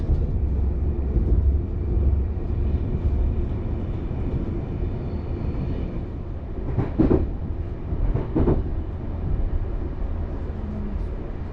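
An InterCity passenger train between Wroclaw and Poznan runs at speed, heard from inside the carriage as a steady low rumble with rail noise and a couple of brief clattering bursts, no voices.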